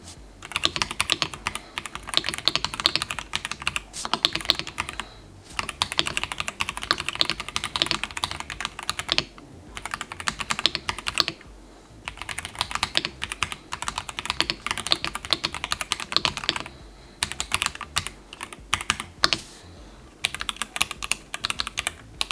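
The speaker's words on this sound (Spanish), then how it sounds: "os dejo con la prueba de sonido del ROG Azoth" Rapid typing on an Asus ROG Azoth custom mechanical keyboard, a dense stream of close keystrokes with a few short pauses between bursts, no voices.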